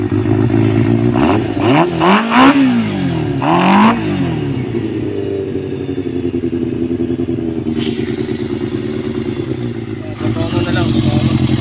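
A Kawasaki ZZR400 motorcycle running on a bypassed carburetor after parts replacement, engine loud and close as it idles and revs in several sharp bursts, with someone talking over it.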